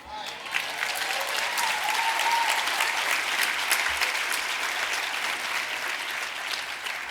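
An audience at an awards dinner gives sustained, dense applause that stays loud and steady throughout, with scattered cheers mixed into the clapping.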